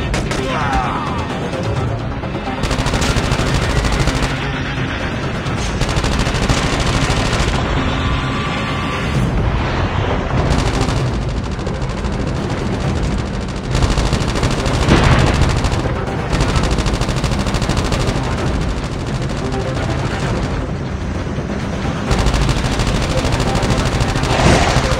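Sustained video game gunfire with bursts of shots and booming impacts runs loud and dense throughout, mixed with scattered player chatter during a frantic match.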